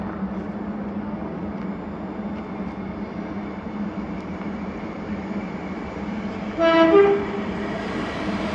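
A Scottish train passing through Paisley Gilmour Street station, a steady low rumble of wheels and engine, with a brief loud two-tone horn blast near the end.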